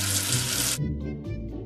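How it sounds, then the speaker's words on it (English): Tap water runs steadily into a sink as soap is rinsed off a small object, a loud broadband gush for most of the moment before the flow cuts off and leaves a quieter room. "Wash away the soap with water."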